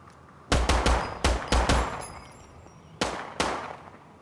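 Sharp, loud gunshots ring out in a shooter set in an armored-enemy firefight: a quick cluster of five or six cracks with echoing tails, then two more spaced shots after a pause, with no voices.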